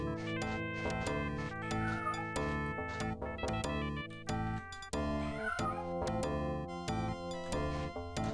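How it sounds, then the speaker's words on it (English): A cute cat in the video game The Elder Scrolls II: Daggerfall meows a few times over dense, continuous in-game music that stays loud throughout. "I am hearing a very cute in-game cat."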